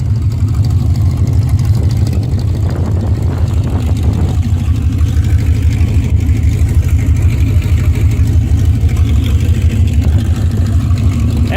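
A 1977 Dodge Aspen wagon engine idles with a raw, rumbling, unmuffled roar from a largely missing exhaust, steady and close for the whole stretch with no talking.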